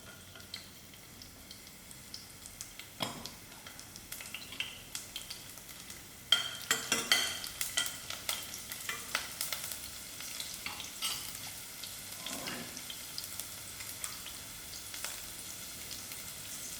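Garlic frying with dry chilies in a pan, a quiet steady sizzle broken by clicking stirs and scrapes. The stirring grows busier and a little louder about halfway through, with no voices.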